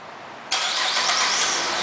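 A 2009 Buick Enclave CXL engine starts by remote start, cranking abruptly after a quiet moment and settling into a steady, fairly loud running sound, with no talking.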